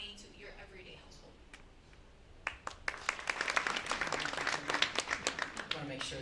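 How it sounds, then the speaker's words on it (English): Audience applause at a blockchain event panel discussion, starting with a few scattered claps and building into steady, fairly close clapping from a crowd for the last few seconds. "I want to make sure that we clap after all you guys"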